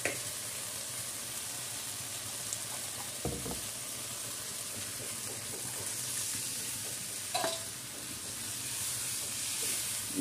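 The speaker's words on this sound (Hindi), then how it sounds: "इसे हिलाते रहेंगे वरना इसमें ना लम्स बन जाते हैं" Kadhi batter is stirred in a hot pot with a steady hiss and soft sizzle throughout, while faint scraping knocks and clinks of the spoon come through now and then, close and low in level, with no talking.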